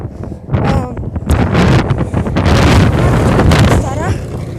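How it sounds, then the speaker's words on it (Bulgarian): Strong wind roars against the microphone outdoors in rough, rising gusts while someone talks over it. "Мразя когато духа."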